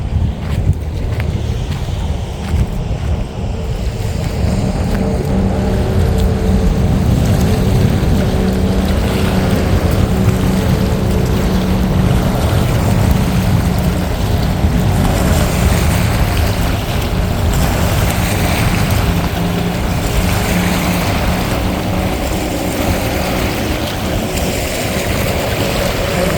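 A steady engine drone from motorboats passing on the water at a Florida beach, with wind rushing across the microphone throughout.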